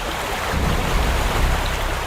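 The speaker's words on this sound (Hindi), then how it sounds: "वाटरफॉल कितना सुंदर है ना पायल?" Steady broadband rush of falling water from a waterfall, continuous and fairly loud with a low rumble underneath, no voices.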